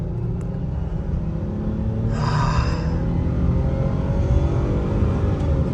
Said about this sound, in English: It just sounds harsh every time you redline it.